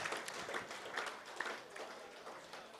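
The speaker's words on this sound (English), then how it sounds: "Another round of applause there" Faint, distant applause for a league medal winner at an awards night, scattered hand claps standing out in a soft, continuous patter.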